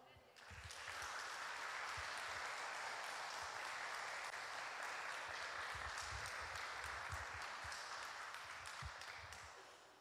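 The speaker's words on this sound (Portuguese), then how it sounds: "Você pode aplaudir o Senhor?" A church congregation applauding during a sermon, a sustained wash of many hands clapping that swells quickly, holds steady for several seconds, then tapers, with voices mixed into the crowd noise.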